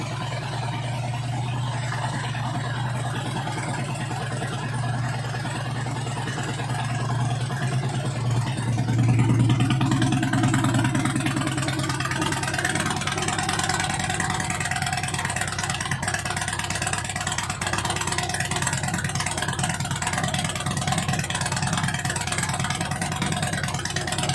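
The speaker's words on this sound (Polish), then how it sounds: "tym miłym akcentem motor się jeszcze dłużej chwilę pogrzeje" A Harley-Davidson motorcycle engine idles steadily nearby while warming up, a low, even rumble, briefly swelling louder partway through before settling back to a constant hum.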